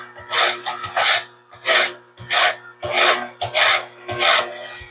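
A knife blade is drawn across a sharpener in seven rhythmic, raspy strokes about half a second apart, each a bright scraping rasp, close and clear with no talking.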